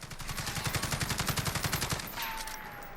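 Rapid automatic fire from an AUG HBAR rifle in Call of Duty Modern Warfare, a fast even burst of about twenty loud close shots lasting two seconds, then fading echo and a faint tail.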